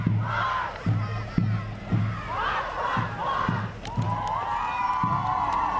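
A crowd cheers and shouts at a Rotary Santa Claus parade, with rising whoops and yells over a steady beat of rhythmic thumps, loud and close throughout.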